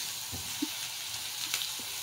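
Onion, peppers, tomatoes and grated carrots sizzle in a pan, a steady close frying hiss with a few soft stirring knocks, no voices.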